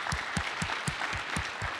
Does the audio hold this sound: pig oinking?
no